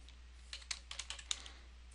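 Light tapping on a computer keyboard comes as a quiet, irregular string of about a dozen clicks at close range, with a faint low hum underneath and no voices.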